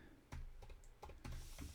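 Keys clacking on a computer keyboard in a few quick bursts of typing, close and fairly quiet, with short pauses between bursts.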